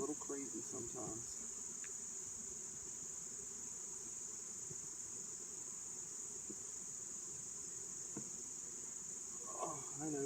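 Honey bees at an opened hive produce a faint, continuous high droning hum with occasional soft handling clatter. The hum stays steady and quiet from start to end.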